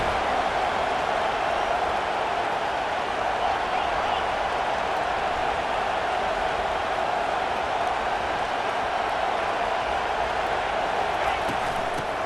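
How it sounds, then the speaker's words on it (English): Home crowd at a Florida State vs Alabama football game, a dense continuous roar sustained steadily throughout with no breaks. "Man, this crowd really affecting the football game."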